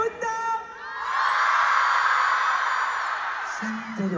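A concert crowd in Shanghai bursts into loud, sustained shouting and cheering after a brief voice over the sound system. The roar swells, holds, then fades as amplified speech resumes.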